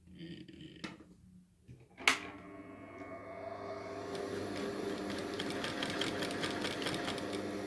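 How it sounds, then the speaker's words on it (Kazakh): Sewing machine stitching folded fabric for a flower costume, starting after a few clicks and a sharp knock, then running steadily with a rapid, even mechanical whir up close for the rest of the clip. "Бүктейміз де машинкаменен тігеміз."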